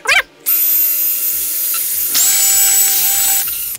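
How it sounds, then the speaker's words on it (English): A hammer drill bores through a concrete wall, running in a loud sustained whine for over three seconds after a brief opening burst, with a short dip before it picks up again. "If you're drilling through concrete, make sure you have it on the hammer bit setting."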